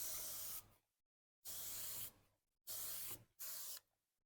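Four short, close hissing sprays of Bilt Hamber Traceless glass cleaner hit a glass surface, each lasting about half a second, separated by brief silences.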